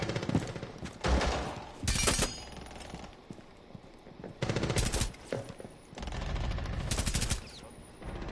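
Gunfire in a video game cracks out in several loud rapid bursts, each clustered volley separated by short quieter gaps of background game noise.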